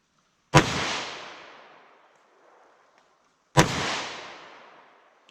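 Two sharp, loud gunshots from a Glock 41 pistol in 10mm conversion ammunition, spaced about three seconds apart, each with a decaying echo tail in an outdoor setting.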